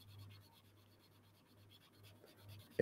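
A pen nib scratches softly across paper while blending colours in a Groovi parchment craft piece, a faint, continuous rubbing scratch with small strokes, ending in a brief louder knock.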